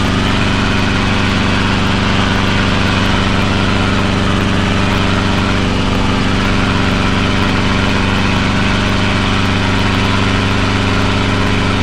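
A helicopter engine and rotor run loud and close during a training flight takeoff, a dense continuous roar with steady low hum and no talking.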